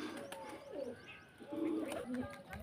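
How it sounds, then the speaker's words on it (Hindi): Pigeons coo softly in a few low, rolling calls close by, over faint background noise, with a voice speaking at moments. "ये हमारे कबूतर उड़ रहे"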